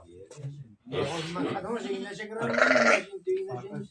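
Sheep and rams, including a red ram, at a busy livestock market, bleating loudly in several close, wavering calls one after another, with people's voices nearby.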